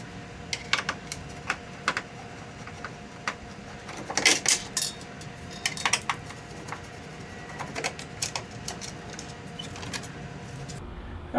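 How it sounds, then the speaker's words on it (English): Phillips screws are worked out of the headlight bezel on a Jeep Cherokee XJ, Wrangler YJ or Comanche MJ, giving scattered light metallic clicks and ticks, with a brief busier cluster of rattles midway, all close and with no talk. "all I need is a Phillips to remove two of the Phillips screws that"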